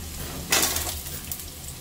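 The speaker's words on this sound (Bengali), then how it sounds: "আলুর টুকরো গুলো এখানে দিয়ে নুন আর হলুদ দিয়ে ভালো করে লাল লাল করে আলুগুলো ভেজে নেব।" Potato pieces with salt and turmeric fry in a pan, a soft sizzle with a brief louder burst of spattering partway through, alone and fairly quiet.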